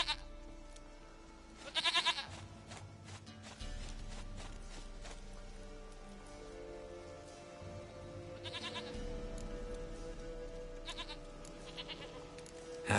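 A goat in The Witcher 3 bleats loudly in two distinct calls several seconds apart, close by, over a quiet ambient game background.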